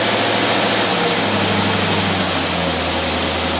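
A Cadillac engine fitted with a Carter carburetor runs steadily, giving a loud, continuous low rumble with a constant hum and no change in pace, close up and with no voices.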